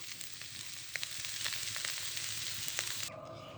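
Small tengra fish frying with turnip stems and beetroot, giving a steady, dense sizzle close up with faint stirring clicks, and no voices.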